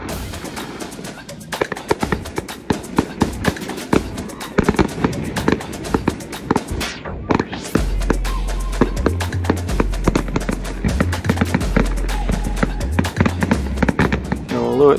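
Fireworks going off over boats moored in a harbour channel at a Plymouth fireworks competition, a dense run of sharp cracks and crackling bursts, then heavy low booms joining in, loud and continuous.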